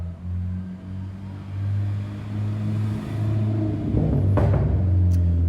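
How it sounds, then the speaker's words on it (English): A car engine rumbles steadily nearby, then swells and roars louder as a vehicle passes close by near the end, the sound rising briefly before fading. "People who drive these like Fast and Furious cars that are like super lowered with like the exhaust that makes it have that whiny,"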